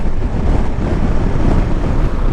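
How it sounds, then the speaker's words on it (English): Gusting side wind buffets the microphone on a ride alongside KLR 650 adventure motorcycles, producing a loud, constant low roar and rumble throughout. "Bit of side wind there."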